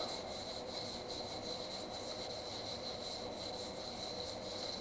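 Steady, close rubbing of soft pastel charcoal across drawing paper, a continuous dry scratchy hiss with no pauses or voices.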